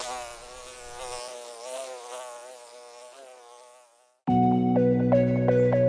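Honeybees buzzing in a steady, wavering drone with gentle pitch swells, close and alone, then cut off by a brief pause before a loud tonal music passage begins.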